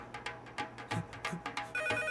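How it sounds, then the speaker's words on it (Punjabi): A telephone ringtone repeats in quick rhythmic pulses at moderate, fairly distant volume for the whole stretch, with no voices over it. "ਆ ਫੋਨ ਚੱਕੋ"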